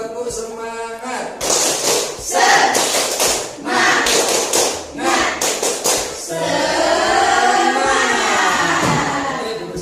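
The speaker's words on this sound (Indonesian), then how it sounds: "Sekali lagi. Tepuk semangat." Students in a classroom repeat the 'tepuk semangat' spirit clap, with loud, close bursts of patterned group clapping alongside shouted chanting.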